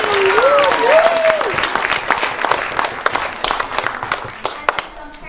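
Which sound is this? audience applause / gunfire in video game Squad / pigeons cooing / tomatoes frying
audience applause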